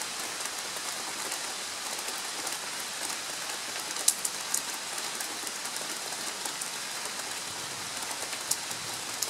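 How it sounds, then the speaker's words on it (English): Steady rain pattering on a surface, a continuous soft hiss with occasional louder drops, no voices. "lone goose in the rain"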